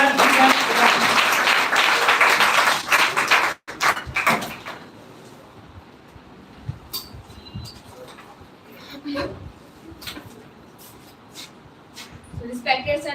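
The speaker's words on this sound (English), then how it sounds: "So please clap for Rakhi." An audience at a school speech competition claps for a speaker, a dense burst of applause for about four seconds that cuts off abruptly, followed by scattered shuffling and knocks in a quiet room.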